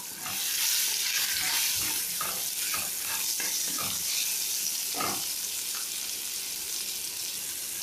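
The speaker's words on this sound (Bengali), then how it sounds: "টমেটোগুলো ভাজা হয়ে গেছে" Tomatoes fry in oil in a pan for a pointed gourd curry, giving a steady, loud sizzling hiss broken by scraping stirs throughout, with no talking.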